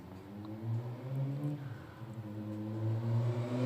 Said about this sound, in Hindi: आपको गाड़ियों की आवाज़ आ रही होगी।